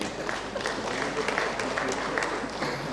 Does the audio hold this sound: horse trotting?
no